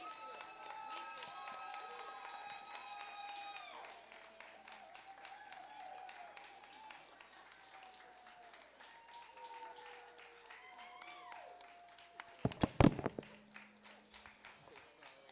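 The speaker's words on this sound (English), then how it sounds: "let's just give a big round of applause for everybody who's donated their time to be here" A conference audience claps and cheers steadily with overlapping voices, then a few louder sharp claps and thumps toward the end.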